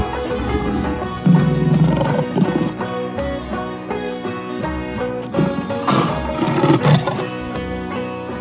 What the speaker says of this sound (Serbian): lav